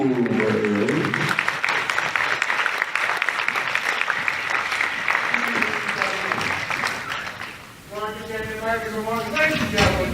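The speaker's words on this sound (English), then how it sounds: "A round of applause for our superhero." A crowd at a PopCon Indy comedy improv show applauds loudly and continuously for several seconds, the clapping easing before a voice speaks over its tail, with speech also brief at the start.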